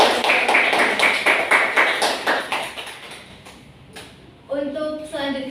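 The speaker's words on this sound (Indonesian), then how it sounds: "Kita beri aplaus" A classroom group claps in a quick, steady rhythm to applaud a student group's presentation. The claps fade after a few seconds, and voices and a brief tonal sound follow.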